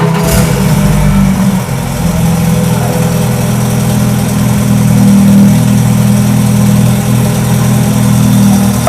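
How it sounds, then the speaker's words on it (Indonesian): A 2017 BMW 320i Sport Line F30 sedan with keyless push-button start sits idling after startup, a steady, loud, close engine drone that barely changes for several seconds. "kita tinggal tekan tombol engine start stop dan nyalakan mesin mobil."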